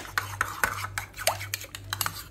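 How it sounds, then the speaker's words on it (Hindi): A spoon stirring ketchup and mayonnaise together into burger sauce, close scraping and clinking against a bowl in an uneven repeated rhythm, over a low steady hum. "इस तरह से केचप और मायो को आप मिक्स कर लें"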